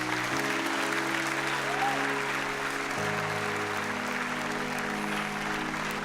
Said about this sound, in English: Clap for my friends.